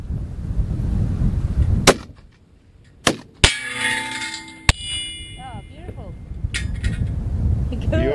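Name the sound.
rifle shots at 1070 yards hitting a target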